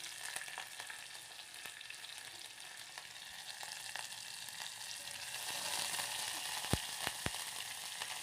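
Curry leaves and chilies frying in hot oil while potato curry is made, a steady broadband sizzle with a few sharp pops and crackles near the end.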